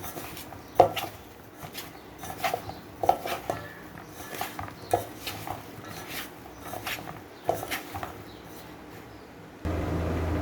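Soybean chunks mixed by hand with a little flour for soyabean chilli, giving soft irregular squelching and clinking bursts at close range, with no talking, before a steadier noise in the last second.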